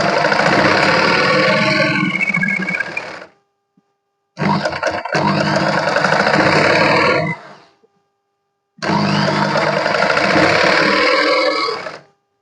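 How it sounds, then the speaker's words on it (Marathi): Sewing machine stitching a trim strip onto a blouse, three loud close bursts of rapid mechanical stitching, each a few seconds long, separated by short pauses. "तिथे आपल्याला इथे दाब स्टिच मारून घ्यायचं आहे"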